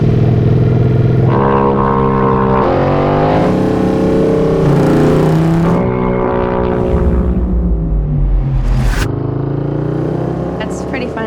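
A Royal Enfield motorcycle launches across the Bonneville Salt Flats, its loud, close engine revving hard and rising in pitch through several gear changes before easing off near the end.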